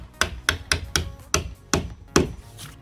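A hammer drives a small pin into a wooden fascia board: seven sharp, close taps in a fairly even rhythm, each a crisp knock with a short ring-off.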